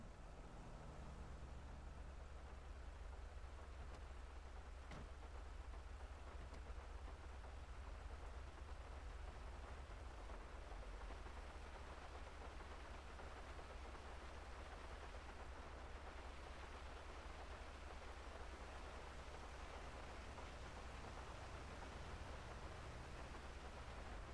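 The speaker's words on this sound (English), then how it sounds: "Oh, lovely. Rain again." Rain falls in a video game as a steady, even hiss of broadband noise that holds unchanged throughout, faint and without voices.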